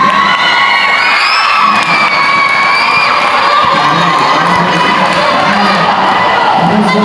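Loud, continuous crowd noise at a city-level school basketball game, fans cheering, shouting and whooping with clapping mixed in, dense and close throughout.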